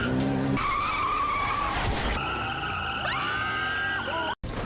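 Motorcycle skids at the roadside beside a standing girl, a loud squealing tire screech with sliding, wavering tones, then a sudden cut to brief silence.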